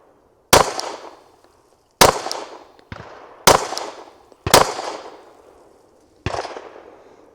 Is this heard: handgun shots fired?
yes